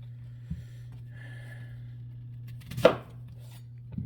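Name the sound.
knife chopping an onion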